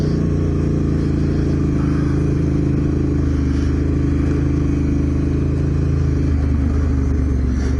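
A motorcycle rides a rough side track in Pokolbin State Forest, its engine droning steadily and close up, with rattling and clatter from the bumpy ground and slight shifts in revs.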